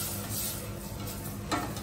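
Rice stirred in hot oil and butter for garlic butter sticky rice, a soft continuous sizzle with a faint scrape of the spoon against the pan near the end.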